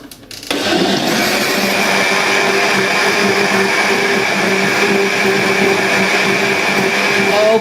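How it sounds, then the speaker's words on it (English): A standalone blender purees courgette soup, switching on after a brief quiet moment and then running as a loud, steady, close whirring drone until the end. "next we are going to puree the soup in the blender"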